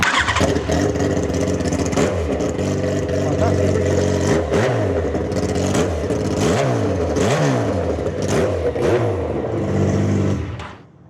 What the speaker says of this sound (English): So now we are going to start the engine with no exhaust at all.